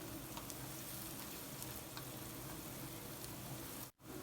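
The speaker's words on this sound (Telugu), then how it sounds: "ఆనియన్స్ మంచి కలర్ వచ్చే వరకు మూత పెట్టి ఉంచేద్దాము ఆనియన్స్ వేగిపోయినాయి" Onions frying in a covered pan on a home stove, a steady, dense sizzle close by that holds even and continuous until a brief dip near the end.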